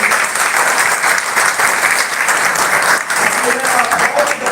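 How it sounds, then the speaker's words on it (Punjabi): Steady, dense applause from a crowd at a Punjab State Ministerial Services Union gathering in Sangrur fills the whole stretch, with voices faintly mixed in underneath. "ਆਪਾਂ ਇੱਕ ਵਾਰ ਇਹਨਾਂ ਦੇ ਨਾਮ ਤੇ ਜ਼ਰੂਰ ਤਾੜੀ ਲਾਉਂਗੇ"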